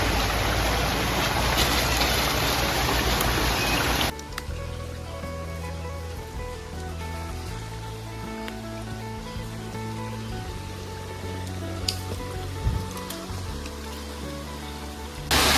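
Rainwater pours off a mountain in a waterfall after rain. A loud, close, dense rush fills the first four seconds, then cuts to a much quieter scene with a low steady hum and faint scattered sounds.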